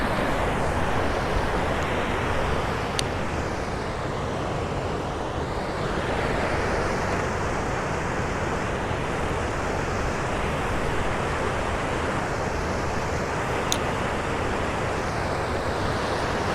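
River water spilling in and a moving current on a backcountry fishing trip, a steady, full rushing wash with no break, close and constant, with no voices over it.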